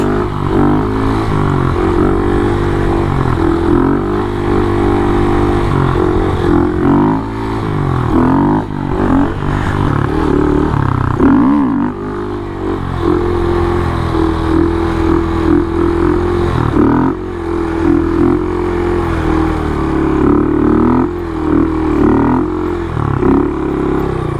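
A Honda Grom motorcycle pulling first-gear wheelies on a sidewalk, its small engine revving and dropping repeatedly in rising and falling surges, loud and close with a brief dip near the middle.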